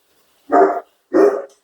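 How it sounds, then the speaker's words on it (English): A dog barks twice, two loud, close, separate woofs in the background of a family home conversation, with no talking during the barks. "that's our dog in the background."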